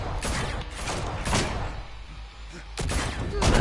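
Gunfire bursts in the Batman: The Telltale Series video game, several loud broadband shots in quick clusters near the start, middle and end, with a voice talking over parts of it.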